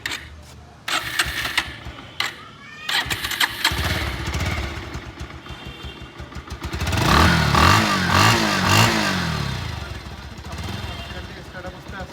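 A 2022 Bajaj Pulsar double-disc motorcycle engine starts after a few clicks and knocks, then settles into a steady close idle with a brief rev and continuing background noise.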